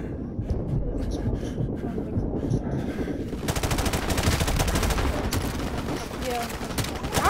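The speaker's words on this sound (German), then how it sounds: "Das Hauptgeschütz ist hin, aber wir haben noch unser Maschinengewehr." Tank-mounted machine gun in Call of Duty: Modern Warfare Remastered firing sustained rapid bursts, loud and dense, heavier in the second half amid battle noise, with voices talking over it.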